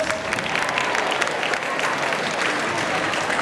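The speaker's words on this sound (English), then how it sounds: "give yourselves a round of applause." A rally audience gives itself a round of applause, a loud, close, continuous patter of many hands clapping at once with faint voices mixed in.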